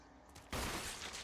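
A single loud gunshot in Resident Evil Remake bursts in abruptly after a quieter moment, its heavy blast and echoing tail filling the rest of the short moment.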